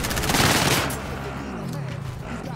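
Rapid automatic gunfire bursts from a first-person shooter game, loud and dense at first and then thinning out, with a busy mix of game effects underneath.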